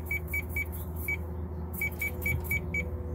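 Short electronic beeps from a detector device used without headphones, sounding in an irregular run of about nine quick tones over a steady low hum.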